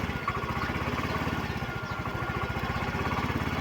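A Yamaha Mio i 125 scooter whose engine starts but dies soon after, running at a steady idle with an even low puttering pulse, close and continuous, no talking.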